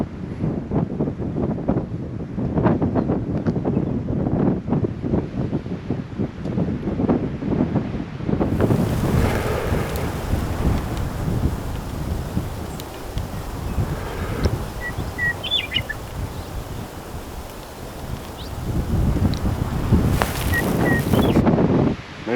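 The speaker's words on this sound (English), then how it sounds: "Need a little wind here. Getting windy." Steady wind in Kansas buffets the microphone with a rough, low roar that gusts stronger and weaker throughout, with faint bird chirps in the background.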